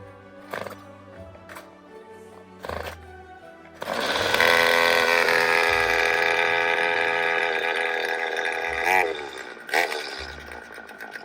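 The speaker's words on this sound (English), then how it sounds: "these are not the easiest chainsaws to start to begin with" A few sharp pull-start tugs, then a small engine sputters to life and revs loudly for several seconds before bogging down and dying.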